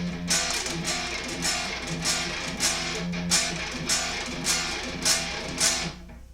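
A weird, strange-sounding guitar interlude within a full band arrangement, steady low tones under bright rhythmic accents recurring about every half second, played alone without talk.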